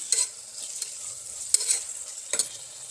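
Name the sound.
tomatoes frying in oil while stirred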